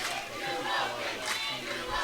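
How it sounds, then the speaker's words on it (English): A standing-room-only crowd at a men's college water polo match between Pacific and Stanford roars and cheers on its feet, a loud, sustained wash of yelling voices that swells and surges throughout. "Crowd on their feet, standing room only crowd."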